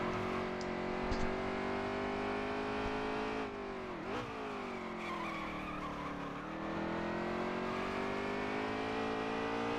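Xfinity Series race cars at Road America roar past at high revs, with engine pitch sweeping up and down through shifts and a brief tire squeal midway, loud and continuous with no voices.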